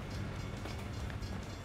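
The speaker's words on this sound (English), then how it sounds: "Alright, gotta wait for the train." A train in American Truck Simulator rolls past in a steady, dense rumble with faint clacking, loud and continuous throughout.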